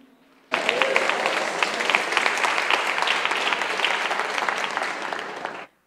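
Sustained, dense applause from a church congregation fills the whole span, starting abruptly after a brief quiet moment and cutting off cleanly at the end.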